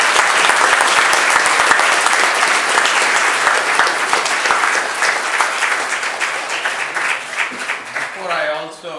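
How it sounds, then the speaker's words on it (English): Loud, sustained applause from a town hall audience, dense clapping that holds steady for several seconds and then thins out near the end. "send her out with a round of applause"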